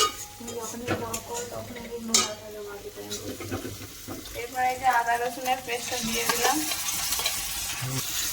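Ginger-garlic paste fries in a pan with a sizzle and stirring scrapes, while people talk over it; the hiss swells toward the end.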